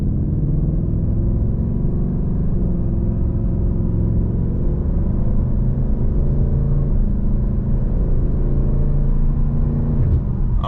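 A 2024 Ford Mustang GT with a 10-speed automatic pulls steadily on the road, its engine a low, continuous rumble heard from inside the cabin, with no talk.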